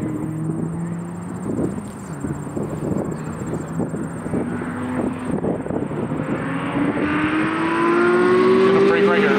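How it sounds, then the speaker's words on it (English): A V8 race car engine roars and revs nearby at a Mosport track event, its pitch climbing steadily toward the end, while people talk over it. "Oh, that's a V8."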